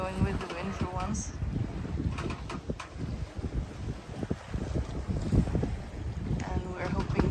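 Steady wind buffeting the microphone aboard a sailing boat off Italy's coast near Manfredonia, with water swishing along the hull and faint bits of talking underneath.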